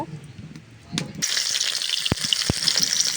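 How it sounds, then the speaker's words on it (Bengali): Chopped onion and garlic hit hot oil in a karahi, bursting into a bright, steady sizzle after a quiet moment, with a couple of sharp clinks from the utensil as it settles into loud frying. "তেল গরম হয়ে গেছে, এবার পেঁয়াজ আর রসুন কুচিগুলা দিয়ে দিব।"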